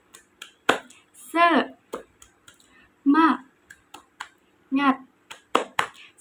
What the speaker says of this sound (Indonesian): kita tepuk semangat terlebih dahulu yuk